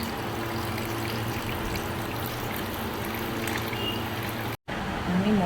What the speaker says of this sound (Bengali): আমি মটনগুলোকে ভালো করে পরিষ্কার করে ধুয়ে নিচ্ছি।